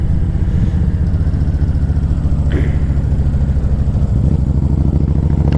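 Steady loud engine rumble of a 2010 Honda Stateline motorcycle while riding, a close, continuous pulsing V-twin drone with wind noise throughout and no speech.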